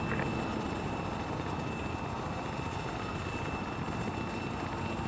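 Helicopter in the Arma 3 military video game, a steady loud rotor and engine drone that holds unbroken throughout with no talk.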